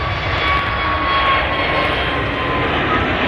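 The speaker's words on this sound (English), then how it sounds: "This aircraft is departing is the longest destination that EasyJet operates." An EasyJet jet airliner departs Manchester Airport at sunset, its engines producing a loud, steady roar with a broad rushing hiss and a faint high whine running through the whole stretch.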